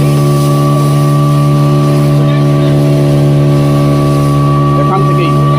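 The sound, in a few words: tourist motorboat engine turning toward Elephant Beach, Havelock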